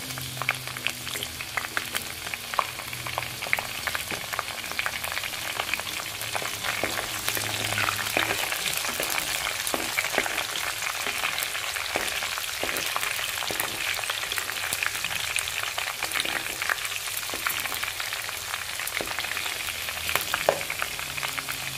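Garlic and green chilies fry in oil in a pan while chicken fry is cooked, giving a steady, close sizzle with scattered pops and crackles that carries on evenly throughout.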